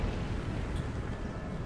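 Cannon fire in the Empire: Total War video game comes through as a dense, continuous rumbling roar of distant artillery that blurs together, loud and steady with no clear separate shots.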